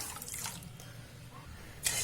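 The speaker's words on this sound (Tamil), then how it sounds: "சுகர் மூழ்கிற அளவுக்கு தண்ணி சேர்த்துக்கலாம்" Water splashes and trickles into a pan of sugar at close range, a steady faint pour ending in a brief louder splash.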